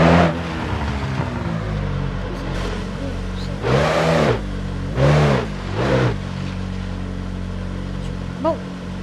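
A tuned Stage 3 VW Golf 7R engine in the BeamNG Drive driving game, drifting with several loud rising revs over a continuous engine drone, while someone talks throughout.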